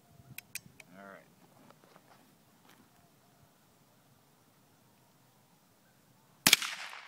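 An old .22 rifle fires a single sharp, loud shot close by near the end, after a few moments of quiet speech and stillness.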